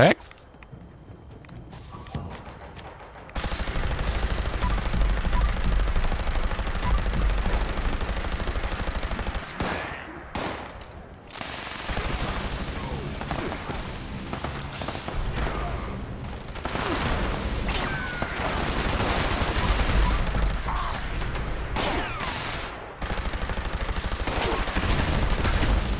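Sustained automatic gunfire from a gun in a shooter video game, loud, dense rattling bursts that run for long stretches with brief breaks, while a voice talks over the shooting.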